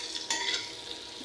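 Chili, onion and prawns sizzle in hot oil in a wok, a steady close frying hiss with a sharper burst of spitting as ingredients stir through the oil.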